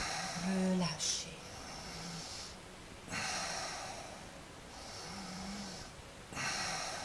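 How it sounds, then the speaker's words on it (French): Deep yogic breathing, with the lungs filled and emptied in slow cycles: close, airy rushes of breath swell and fade every few seconds, with a voice faintly present. "Remplissez les poumons. Relâchez."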